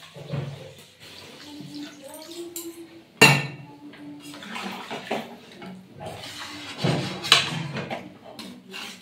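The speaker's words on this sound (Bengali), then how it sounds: "দিয়ে দেওয়া যাক এবার জল।" Water is poured into flour in a kitchen to make kachori dough, a close splashing trickle with clinks of a metal vessel and one sharp knock, with faint movement sounds around it.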